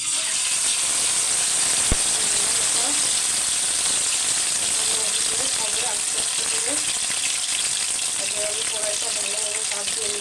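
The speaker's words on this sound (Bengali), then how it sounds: "এটা এখন তেলে দিয়ে দেবো তেলটা গরম হয়ে গেছে" Chicken pieces marinated for tandoori go into hot oil with a steady, loud hiss and sizzle that fills the whole span, with faint voices murmuring underneath.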